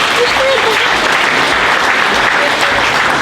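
An audience applauds at a hall of fame induction ceremony, a dense, steady clapping that fills the whole moment without pause.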